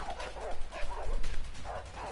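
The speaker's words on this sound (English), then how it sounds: "there's dogs." Dogs bark and yip in the video game A Way Out, several quick excited barks close by and fairly loud in a short burst.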